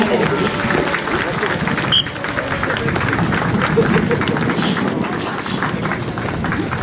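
Outdoor ceremonial crowd at an SSB dog squad display clapping steadily, a broad continuous wash of applause with murmuring and an announcer's voice over it.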